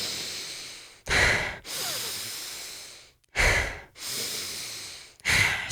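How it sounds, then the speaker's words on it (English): Cyclic hyperventilation breathing in the style of the Wim Hof method: three quick, forceful inhales alternating with longer, softer exhales, close and loud, repeating in a steady rhythm with no talking. "the cyclic hyperventilation is more like this"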